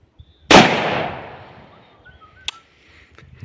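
A single 5.56 rifle shot fired at a helmet in a ballistic test: a sharp, loud crack with a long decaying tail, then a fainter short knock a couple of seconds later.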